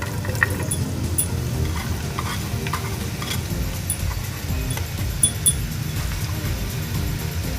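Onions sizzle in hot oil in a pan over a medium flame on a stovetop while a spoon stirs them, a steady close frying hiss with scraping stirs and occasional sharp clinks.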